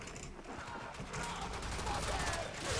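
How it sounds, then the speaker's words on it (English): Euphona Prime alt fire shots in Warframe against a level 140 heavy gunner, a dense rapid burst of gunfire crackling on and off under steady game noise, with a voice talking over it. "I'm using my alt fire to strip the armor of the enemy"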